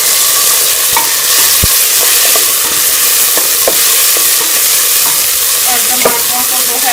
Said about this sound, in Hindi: और टमाटरों को जो है वो सॉफ्ट होने तक पकने देंगे